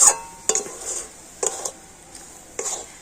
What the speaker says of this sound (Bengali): এখন আমি একটু হালকা জাল দিয়ে কন্টিনিউ এইভাবে করে নাড়াচাড়া করে নেব